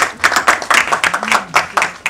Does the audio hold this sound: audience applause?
yes